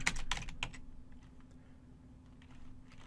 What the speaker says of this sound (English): Type the command dbinsert